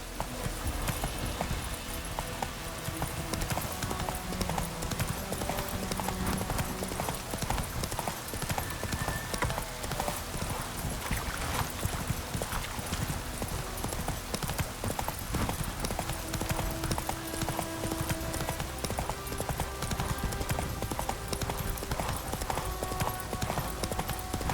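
Roach the horse galloping in The Witcher 3, a dense, continuous clatter of hooves that runs the whole time alongside in-game music and surroundings, with a faint neigh.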